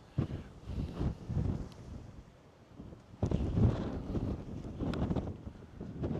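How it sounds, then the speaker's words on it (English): Strong wind on the Scarborough Castle headland buffets the microphone in loud, uneven gusts with brief lulls between them. "And very windy."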